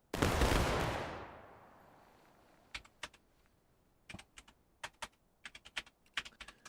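A company of musket-armed soldiers in War of Rights fires a single massed volley, a loud roaring blast that rings out and fades over a second or so, followed by scattered sharp clicks and knocks.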